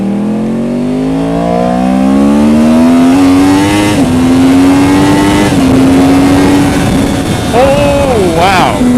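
Yamaha R1 sport bike with a flashed ECU pulling hard in first gear, engine pitch climbing steadily and loudly up close, then easing and blipping near the end, with wind noise throughout.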